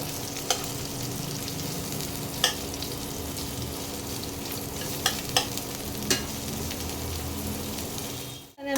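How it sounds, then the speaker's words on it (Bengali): Onion frying in a pan for restaurant-style egg chicken fried rice gives a steady close sizzle, broken by a few sharp stirring scrapes and a final thump. "পেঁয়াজটা ভাজা ভাজা হোক।"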